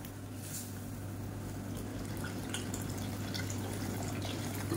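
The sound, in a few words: water poured into cooking pan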